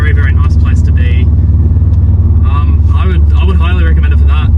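A modified exhaust on a 2001 Subaru Liberty gen 3 sedan rumbles loudly and steadily from close by, while someone talks over it.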